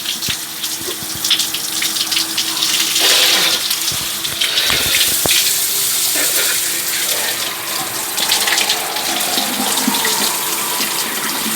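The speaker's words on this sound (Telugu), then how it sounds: "నీళ్ళు కొండ నుంచి వస్తున్నాయండి" Water coming down from the hill pours into a villa swimming pool in Munnar, Kerala, a steady, close rushing splash that continues without a break.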